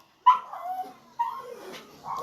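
Dogs bark indoors in a house, two or three loud separate bursts of barking with whiny, yipping edges and short pauses between them.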